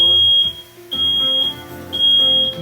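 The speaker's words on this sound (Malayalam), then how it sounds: "കടയിൽ അടച്ചില്ലെങ്കിലും നമ്മുടെ വീട്ടിലെ ഫയർ അലാം അടിച്ചു" A home fire alarm beeps loudly and close by, sounding three sharp, high-pitched tones at an even pace with short gaps between them.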